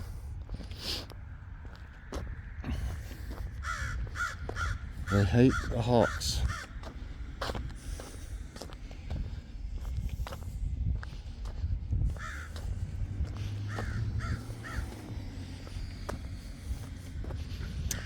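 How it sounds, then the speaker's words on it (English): Crows caw in short repeated bursts, some near and some farther off, during an outdoor walk on a sunny day, with footsteps and someone talking in between calls. "Crows are very smart."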